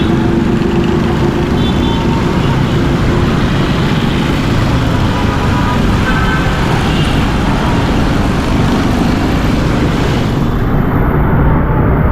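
Heavy road traffic on a waterlogged, flooded street, a dense continuous roar of passing vehicles and engines close by, loud and unbroken throughout with no speech.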